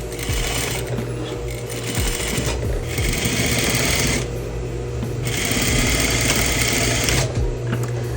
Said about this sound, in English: I switched over to my Juki so that I can stitch really close to this line